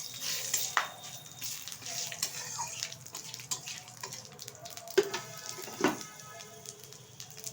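Whole spices, cumin seeds, mace, black and green cardamom, cloves and cinnamon, fry in hot oil for a mutton curry, making a quiet, steady sizzle with a couple of sharp pops and clicks.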